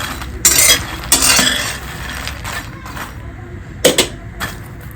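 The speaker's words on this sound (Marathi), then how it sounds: "खरपूस भाजते आता गॅसवर" Dry roasting on a gas stove in a home kitchen, with a spatula scraping and stirring in a pan in a few loud bursts between quieter stretches of faint sizzle.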